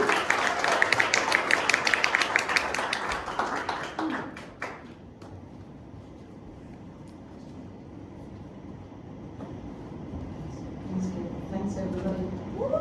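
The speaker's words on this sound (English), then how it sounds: "please give her a round of applause" An audience applauds a poetry reader, a dense burst of clapping that fills the room for about four seconds and then fades to a quieter, murmuring room.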